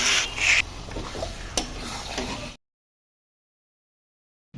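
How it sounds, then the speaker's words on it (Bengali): Chicken with spices sautéed and stirred in oil over a medium gas flame, scraping and rubbing strokes with light sizzle for a few seconds, then abrupt silence. "গ্যাসের ফ্লেম মিডিয়ামে রেখে মশলা সমেত চিকেন একটু সময় নিয়ে কষে নিতে হবে"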